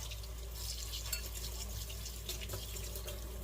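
Hot water running from a filtered kitchen sink tap, a steady faint hiss of flow with light splashing, close and unbroken.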